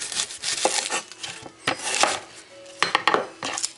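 A knife cuts through an onion on a board, giving uneven bursts of crisp slicing and knocking with short pauses between strokes, close and fairly loud.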